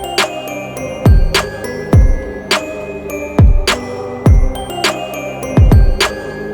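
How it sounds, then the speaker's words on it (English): Trap-style drum pattern built from kick and snare samples, punchy booming kicks with a sharp tail landing roughly every second alongside crisp snare hits, over a sustained synth pad in a dark alt-pop beat; loud and steady with no voice. "All right, so now we've got a kick and a snare."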